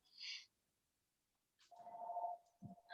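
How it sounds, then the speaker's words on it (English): A telephone rings faintly in a brewery: a sustained electronic tone with a few short chirps around it in an otherwise quiet room. "Apparently we're getting a phone call."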